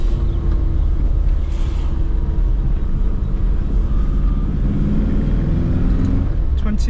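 A renovated classic Mini Cooper RSP on a road test in second gear, its engine a steady, close, low rumble with wind buffeting the whole way through.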